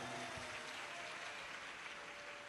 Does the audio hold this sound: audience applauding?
yes